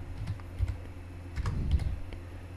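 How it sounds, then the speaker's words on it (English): Rapid typing on a computer keyboard while entering a format command for a USB drive: a quick run of soft, close key clicks over a low steady hum. "just hit space and type quick."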